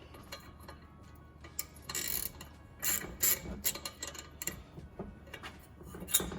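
Hand ratchet turning a socket on a tap while working on a rat rod, giving irregular bursts of clicking at close range with pauses and small handling noises between.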